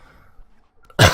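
A single short, sharp cough bursts out at the very end after near silence.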